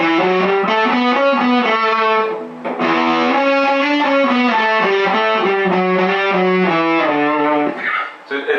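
Overdriven electric guitar runs up and down the Byzantine Dorian scale in even single notes, loud and unaccompanied, with a brief pause partway through.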